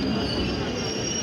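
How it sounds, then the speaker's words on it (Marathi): A train arrives at Akurdi railway station, giving a brief high metallic wheel squeal over low rumbling rail noise, close and moderately loud. "सध्याला ट्रेन पोचलेली आहे आकुर्डी रेल्वे स्टेशनला"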